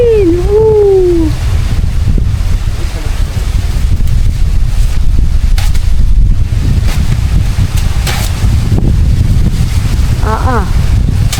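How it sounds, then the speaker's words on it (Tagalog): Strong wind buffets the microphone aboard a boat at sea, a loud continuous roar with gusty low rumble, while voices briefly call out over it. "Wow, ang hangin!"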